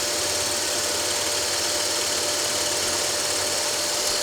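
A scroll saw cuts a spiral into a wooden magic wand, its blade buzzing in a steady, close, unbroken drone with a thin constant whine over the motor hum.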